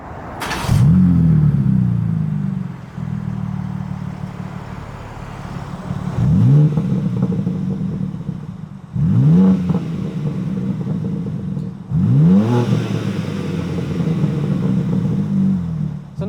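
A BMW M3 Touring's engine starts with a sharp whir and catch, then idles with a steady rumble and is revved three times, each rev rising and falling, loud and close.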